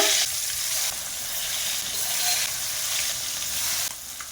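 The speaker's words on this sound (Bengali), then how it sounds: "তেলের মধ্যে মাছ দিয়ে ভেজে নেব।" Pieces of loitta fish fry in hot oil in a kadai over a gas flame, giving a loud, steady crackling sizzle up close that flares and settles with no voices.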